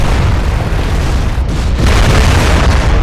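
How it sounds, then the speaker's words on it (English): A salvo of missiles bursts in the MechWarrior Living Legends game during an assault on the Ponzan map, a loud, dense rumble of overlapping explosions that swells after a brief lull and keeps roaring to the end. "Here come another salvo of missiles."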